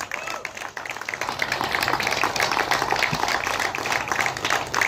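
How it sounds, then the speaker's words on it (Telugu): A crowd at a team sports award event breaks into loud, sustained clapping and applause that fills the whole stretch, with faint voices underneath. "గట్టిగా క్లాప్స్"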